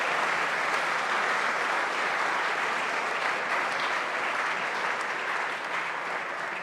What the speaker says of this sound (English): May I give them a round of applause